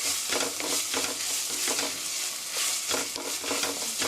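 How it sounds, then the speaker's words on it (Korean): Chili powder stir-fried in a pan for mapo tofu, a steady broadband sizzle with rhythmic scraping strokes of the spatula repeating throughout, close and continuous. "고춧가루가 타지 않을 정도로 볶아주세요."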